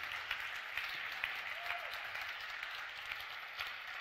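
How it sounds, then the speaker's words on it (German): Steady audience applause fills a live stage show in the Dr. Oetker-Welt in Ostwestfalen, Germany, a dense wash of clapping hands held at an even level for the whole stretch, with no voices over it. "dein Applaus"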